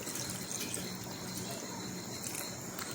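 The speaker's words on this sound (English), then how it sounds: "here I am adding the water" Water being poured into a pot of red bean soup with lamb and chicken feet, a steady close splashing and trickling fill that runs unbroken for the whole stretch.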